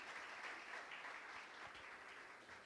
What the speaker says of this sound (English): let's give them a round of applause for hosting us here